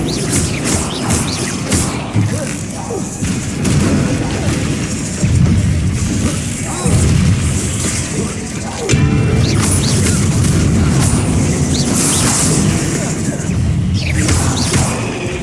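Confringo blasting spells in Hogwarts Legacy's final battle, loud booming impacts and crashing bursts recurring amid whooshes and battle clamour, with a character's voice calling out spells.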